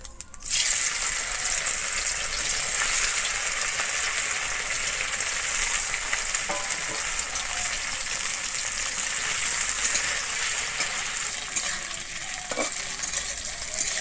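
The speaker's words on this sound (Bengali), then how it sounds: "আমি প্রথমে ডিমের ভাপাগুলোকে ভেজে নেবো" Pieces of steamed egg fry in hot white oil in a wok, a steady close sizzle with light stirring that runs unbroken from start to finish, with no talk.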